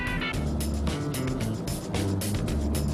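A Peugeot 207 with a 1.4-litre petrol engine pulls hard at full throttle in third gear, a loud, steady drone with rising harmonics and rhythmic pulses throughout.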